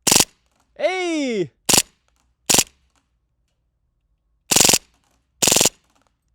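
An airsoft pistol emptying a full magazine in several short rapid-fire bursts, loud and close, with a brief shout from a person between shots.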